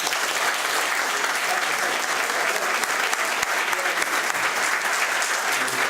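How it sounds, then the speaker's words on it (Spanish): Sustained, dense applause from an audience at a graphic storytellers' gathering, steady and loud throughout, greeting a speaker named Ronnie before he closes the evening. "un aplauso para Ronnie"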